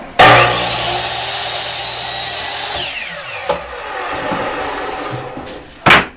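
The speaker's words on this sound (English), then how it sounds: "he's gonna take it over to the chop saw and cut it to 3 foot" A chop saw slices a 6-foot wooden fence picket down to 3 feet, the loud whining motor spinning up sharply, grinding steadily through the wood for a few seconds, then winding down before a brief second burst near the end.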